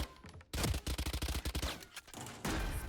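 Rapid bursts of gunfire in a tactical shooter match, a fast volley of sharp shots followed by a few more scattered blasts, loud and close.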